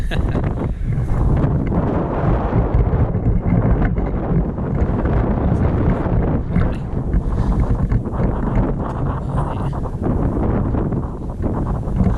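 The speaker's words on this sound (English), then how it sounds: "It's quite a strong wind though, if you can even hear me in it." Loud, continuous wind roars and buffets close against the microphone on the summit of Beinn a' Chrùlaiste in Scotland, rumbling steadily throughout with no letup.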